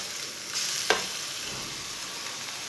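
Grated pumpkin hits hot oil for halwa, bringing a quiet, steady sizzle with a single sharp stir or scrape near the start, then continuous soft frying.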